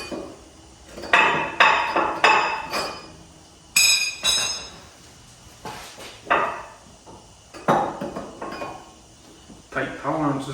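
U-bolts are fitted on a Subaru Forester during a body swap, with a scattered series of sharp metallic clinks, taps and rattles at close range between brief pauses.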